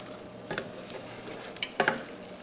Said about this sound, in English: we're just going to mix this together and bring this to a boil